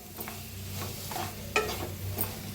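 Fennel, cumin and coriander dry-roast in a pan, a soft continuous hiss broken by a few sharp scraping and stirring clicks, close and fairly quiet.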